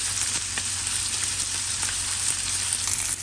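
Spring onions sizzle in a hot pan while cooking carne en su jugo, a steady dense crackle and hiss close up with no talk.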